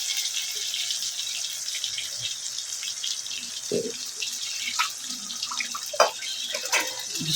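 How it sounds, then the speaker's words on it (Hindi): Water runs steadily into a pot of ground ginger-garlic masala for an Eid mutton curry, a continuous close splashing pour with a few brief louder gurgles toward the end. "पानी डाल देंगे, इसमें हमारा मसाला तैयार हो जाएगा।"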